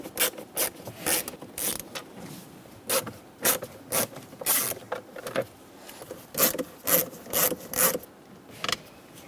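Phillips head screws being loosened inside the glove box of a 2012-2018 Nissan Altima, heard as repeated short raspy ratcheting twists in uneven bursts, close and fairly quiet.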